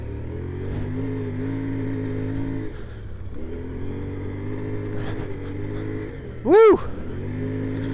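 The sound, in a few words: CFMOTO Ibex 450 motorcycle engine revving off road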